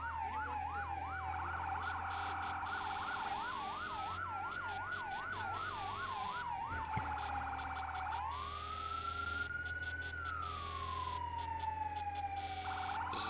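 A fire truck siren in the game Firefighting Simulator, alternating between a rapid warbling yelp and a slow rising-and-falling wail, steady and continuous at moderate volume with no talk.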